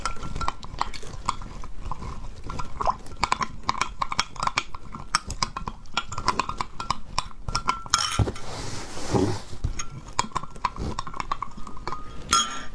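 Spoon stirring cold water into a 500-gram jar of noodle base, with repeated close clinks of metal against a container in an irregular rhythm and a brief louder scraping burst near the end.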